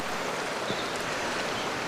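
Small waterfall cascades pour over rocks in a steady, broad rushing wash of water, constant and moderately loud with no voices.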